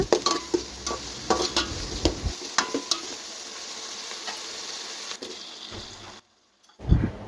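Metal utensil scraping and clinking against a pan while stirring onions sautéing with salt, in repeated strokes, with a soft sizzle underneath, then a brief pause and a final clatter.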